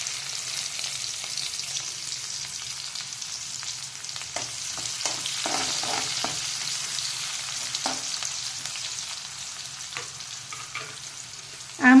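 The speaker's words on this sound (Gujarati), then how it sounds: "જીરું થઈ જાય એટલે આપણે ડુંગળી એડ કરી દઈશું" Chopped onion sizzles as it goes into a cumin tempering for aloo palak sabzi, a steady close frying hiss with scattered stirring clicks and a sharp knock right at the end; no one speaks.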